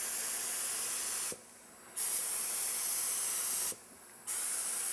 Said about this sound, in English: Now I'm going to switch from the conventional gun to this compressor-based HVLP.